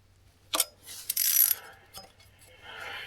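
A ratchet or wrench clicks in short bursts, close and quiet, as bolts on an aluminum transmission pan for a 4L60E transmission are snugged down by hand, with no talking.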